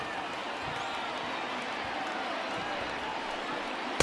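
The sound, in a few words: baseball stadium crowd rising in MLB The Show 20 video game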